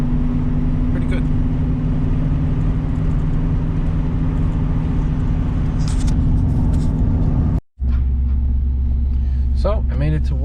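A 1984 Camaro Z28 on the road with fresh rear shocks gives a steady, loud low rumble of engine and tires, briefly cut out once before the drone resumes, with a voice talking over much of it.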